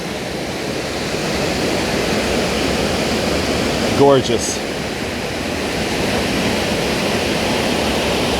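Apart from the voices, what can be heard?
waterfall at Choke Creek Falls, Pennsylvania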